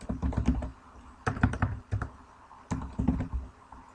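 Someone types a name on a computer keyboard in three quick bursts of close, crisp key clicks with short gaps between the bursts. No one speaks.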